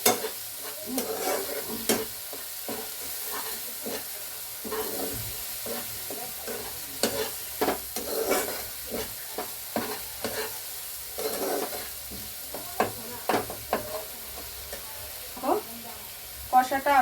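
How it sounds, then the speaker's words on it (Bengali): Masala for cauliflower korma stirred and fried in a pan, with a steady low sizzle broken by repeated scraping clicks of the spoon at an irregular rhythm, close and clear. "মশলাটা দিয়েছি তো, একটু ভালো করে নাড়াচাড়া করতে হবে"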